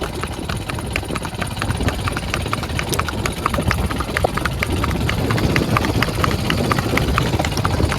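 A horse's hooves clip-clop steadily along a road in an even walking rhythm, fairly close, with a low engine-like hum underneath.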